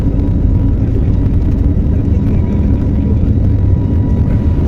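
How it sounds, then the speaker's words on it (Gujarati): An airplane engine roars steadily as the plane accelerates for takeoff, a loud, continuous low rumble that stays at a constant level throughout, heard from inside the aircraft with no talk. "હવે અમારા પાયલોટે પ્લેનને ટોપ ગિયરમાં નાખી દીધું છે ને જો બંબાટ જાય છે અમારું પ્લેન"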